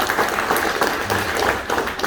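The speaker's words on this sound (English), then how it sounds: "let's give Vic another round of applause" Applause from a construction union trades audience, given for a speaker named Vic: a short, moderately faint burst of clapping that stays fairly even for about two seconds.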